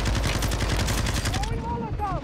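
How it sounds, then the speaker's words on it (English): Rapid automatic gunfire from a Call of Duty: Modern Warfare 2 firefight on PC, loud and continuous, with a voice speaking over it toward the end. "What the fuck is shooting?"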